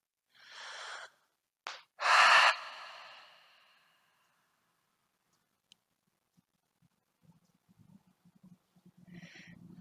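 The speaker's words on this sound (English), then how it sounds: "Maybe take a few open mouth exhales." Open-mouth exhales during a gentle yoga twist session: two or three breathy, fairly close puffs of air in the first few seconds, then quiet with faint soft rustling of movement.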